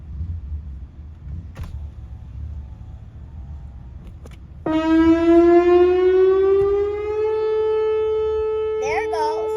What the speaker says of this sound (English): Whalen tornado siren going off noon Saturday